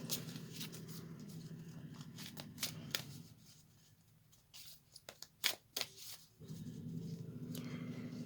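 A deck of moon oracle cards is shuffled by hand, close and soft, in riffling, rustling bursts that pause briefly midway before picking up again. No one speaks.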